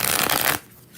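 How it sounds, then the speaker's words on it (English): Tarot cards shuffled by hand during a live reading: a dense, close riffling rush for about half a second, then a quick fade to near silence, with no voice over it. "2 more shuffles for Aisha"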